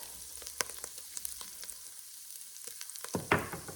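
A pan sizzling hard as beef broth goes in to deglaze it after garlic and vegetables, a dense frying hiss with scattered crackles and a sharp louder splash near the end, close and alone.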